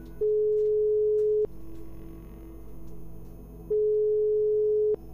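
An unanswered phone call in the video game Thing-in-Itself produces two long steady electronic ringback tones, each about a second long and separated by a pause, clean and loud over a low hum.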